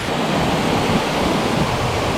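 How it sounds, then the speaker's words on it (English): A waterfall in Malaysian Borneo roars close and loud as a dense, constant rush of falling water with no talk over it. "We made it to the waterfall."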